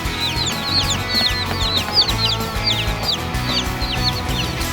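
Chicks just delivered by mail cheep and peep in a steady, busy chorus of many high chirps, close and fairly loud over a low background rumble, with no talk.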